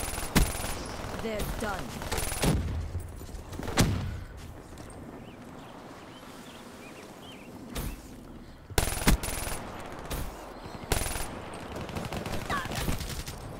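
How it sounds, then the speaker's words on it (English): Gunfire in an online first-person shooter rings out in several loud, sharp bursts and single shots separated by quieter gaps, while players talk over the game sounds. "I got shot through the wall."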